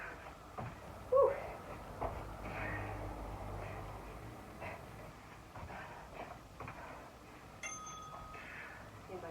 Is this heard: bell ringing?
yes